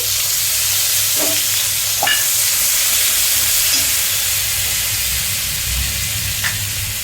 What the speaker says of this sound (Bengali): তার মধ্যে দিয়ে দিলাম পোস্ত। পোস্তটা হালকা একটু নেড়ে